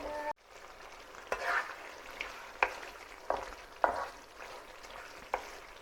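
Marinated beef sautéing in a pan, its softened pieces starting to caramelize, giving a steady close sizzle broken by several sharp scraping and clinking stirs at irregular intervals, with no one speaking.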